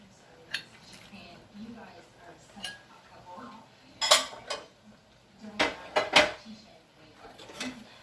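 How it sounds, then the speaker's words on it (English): Shrimp tipped into a pan with oil and pushed around for a shrimp and chicken stir fry, giving scattered metallic clanks and scrapes of utensil on pan over a faint sizzle, with some clacks loud and close. "we're going to go ahead and add the shrimp"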